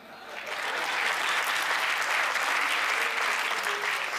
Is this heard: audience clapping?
yes